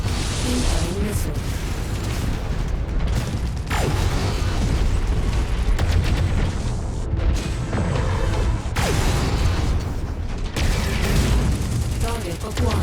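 Loud, dense battle noise from MechWarrior 5 fills the whole stretch: booming missile impacts and crackling blasts over a continuous mechanical rumble and creaking, with several sharp bursts standing out, including around the four- and nine-second marks.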